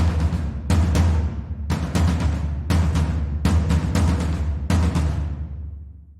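A mid-pitched drum plays a rhythm with a different pattern, giving strong resonant hits in uneven groupings that decay between strokes, loud and close with no talking.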